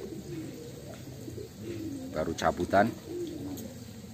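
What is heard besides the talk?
young pigeons cooing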